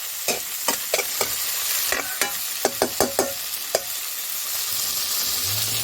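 String beans fry in a pan and a utensil stirs them. The scrapes come in a quick irregular series over a steady close sizzle, with no talking.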